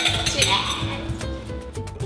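Glasses clink together in a toast over a distilled chicha release, a few quick bright chimes close by amid busy background noise.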